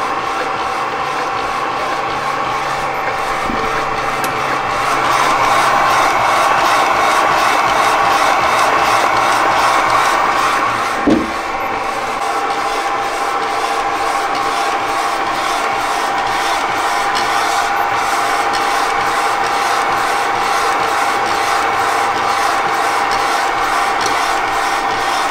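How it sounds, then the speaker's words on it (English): A DTF printer runs through a T-shirt design print, a steady mechanical whir with a sustained tonal hum and a rhythmic shuttling texture, loud and close, with a couple of brief knocks along the way. "It's gonna start printing."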